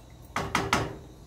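A lid goes onto a pot of simmering Punjabi rajma (kidney beans): three quick metallic clacks in close succession, fairly loud and near, over a quiet kitchen background with no talking.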